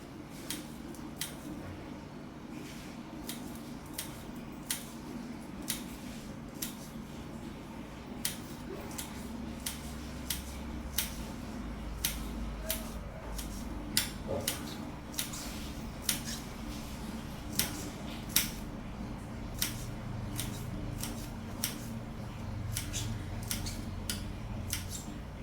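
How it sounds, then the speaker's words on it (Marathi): Green chilies are chopped finely on a board at home for sabudana vada, making a steady run of sharp crisp ticks and snips, fairly quiet, against faint household background hum. "तर मिरची घेते कापून"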